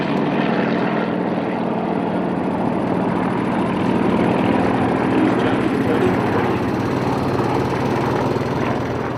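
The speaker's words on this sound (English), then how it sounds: "the spectacle of lots of radial engine aircraft in the air together" Several Yak-52 radial-engined trainer aircraft flying in a pylon air race, a loud, continuous, rough propeller and engine drone that holds steady throughout.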